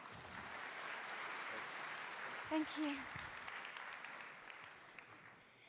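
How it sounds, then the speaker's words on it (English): Conference audience applause at a plenary stage session, a steady wash of moderate clapping that fades toward the end, with a brief spoken thanks near the middle. "So everyone please give a round of applause for Dawn."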